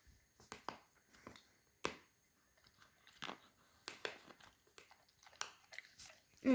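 A small dog crunches dry macaroni up close, a series of sharp, irregular cracks and chewing bites with short quiet gaps between them.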